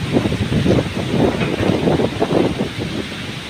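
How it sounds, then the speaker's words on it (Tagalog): Strong typhoon wind in Bohol roars steadily, with dense rustling and rattling of tree leaves and branches throughout, loud and close with gusty swells. "kalampag ng mga dahon, ng mga kayo"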